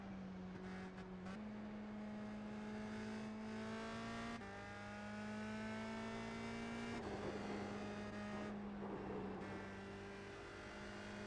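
A USF 2000 open-wheel race car at Lime Rock Park drives with a steady loud engine drone, pitch climbing and stepping through upshifts, then dropping back through downshifts in several distinct gear changes heard from onboard.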